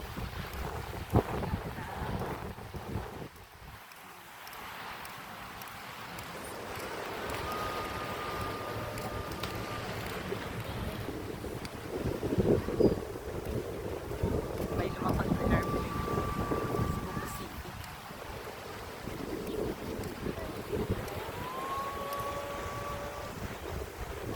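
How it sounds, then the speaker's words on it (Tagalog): Strong morning wind at Boracay buffets the microphone in a steady roar with gusty surges, and water and a boat's hum sit underneath. "lakas ng hangin"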